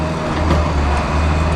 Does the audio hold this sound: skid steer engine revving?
yes